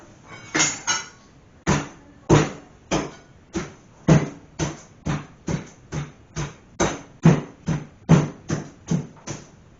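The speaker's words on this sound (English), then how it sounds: "if I go over here with a hammer or a bar" Repeated sharp knocks from a hammer or bar striking a moldy, leak-damaged floor by a toilet, about sixteen hits at a steady, slightly uneven pace, close and fairly loud with no talk.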